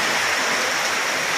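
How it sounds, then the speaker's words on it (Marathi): Steady, loud rain falls continuously in a dense hiss during the monsoon season, with no voices heard. "पाऊस आलेला चांगलाच आहे येऊ द्यात किती येतो तेवढा पाऊस"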